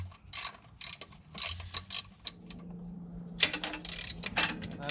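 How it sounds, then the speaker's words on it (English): Ratchet working E10 Torx transmission bolts on a BMW E46 M3 during an SMG clutch job, a series of quick close clicking bursts with short pauses between strokes, no speech. "I'm gonna start removing the transmission bolts. These two are E10 Torx."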